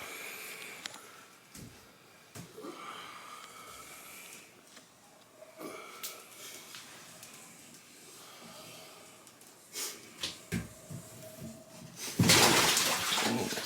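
A snake lands in water with a sudden, loud splash near the end, after a stretch of quiet handling noises, soft breaths and shuffling during snake feeding.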